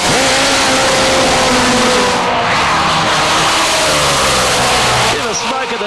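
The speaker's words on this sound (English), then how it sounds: "Smoke of the tyres there early on for Parker, but he's back on it, still on it, and a great side-by-side run" Drag racing bikes roar down the strip in a side-by-side run, a loud, sustained high-revving engine blast that rises in pitch, with a commentator talking over it.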